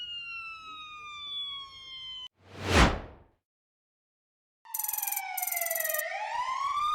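A police car siren wails in two stretches, first a steady tone and then a loud sweeping rise, separated by a brief whoosh and a moment of silence.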